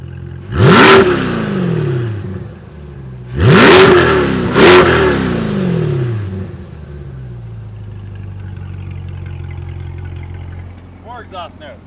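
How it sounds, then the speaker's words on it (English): A 2020 Chevrolet C8 Corvette Stingray Z51 engine revs hard twice, then a third quicker blip, with a roaring exhaust that settles into a low idle burble. "Let's go to the exhaust note one more time."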